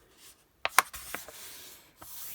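Patterned paper folded from a 12 x 12 sheet produces crisp crackles and sharp creasing swipes, a few close quick bursts in a quiet room, with a short rubbing stroke at the end.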